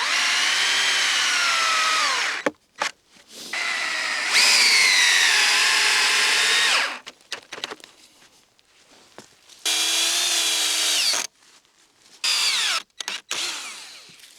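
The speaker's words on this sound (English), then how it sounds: "Drill down this screw to help keep it in place." A power drill whirs in several bursts, rising and falling in pitch as it drives a screw into wood on a photo blind platform, with short pauses and light handling noises between.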